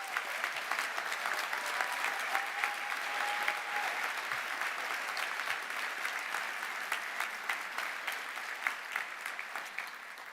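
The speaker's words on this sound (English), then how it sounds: "can we give all of the people who've supported us to get to this day another wee round of applause?" A graduation audience at the University of Stirling summer ceremony claps steadily in a large hall, a dense, even round of applause lasting the full ten seconds with no voices over it.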